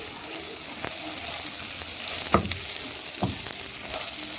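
Rice and onions sizzle steadily as they are stirred and fried together in a pan, with a few sharp scraping clacks of the spoon against the pan over the constant hiss.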